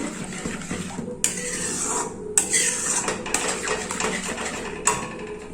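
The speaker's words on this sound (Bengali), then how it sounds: "এবার আমি ক্যারামেলটাকে ভালো করে মিশিয়ে নিচ্ছি।" A spoon stirring and scraping caramel in a metal pan for kheer doi, with rasping strokes and several sharp clinks against the pan at intervals, close and moderately loud.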